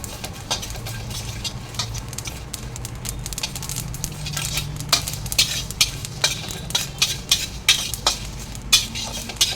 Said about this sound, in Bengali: এবারে এর মধ্যে কালো জিরে দিয়ে দেবো।